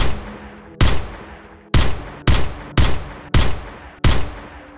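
Seven heavy, muffled pistol shots boom in an irregular volley as a pin on an air inlet is fired at underwater, each a loud close thud with a short decaying tail over a low background rumble.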